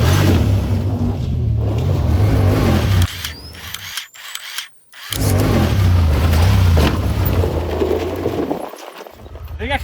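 A Honda Talon side-by-side drives over rough ground and jumps, its engine rumbling loud and close, then cutting out briefly during the airborne moment before resuming, with bumps and rattles throughout and people talking.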